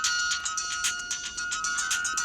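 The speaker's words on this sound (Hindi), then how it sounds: "फोन की घंटी बज रही है।" A phone ringtone plays in a repeating electronic melody of bright pulsed tones, steady and fairly close, with no talk over it.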